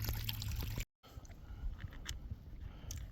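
Water poured out on a North Carolina stretch of the Appalachian Trail, a close steady pour and trickle with a brief break, over soft outdoor background noise.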